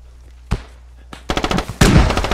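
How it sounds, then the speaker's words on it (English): Assault rifle gunfire in a shooter video game, a few single shots at first, then loud rapid bursts of automatic fire at close range. "I just heard AR fire."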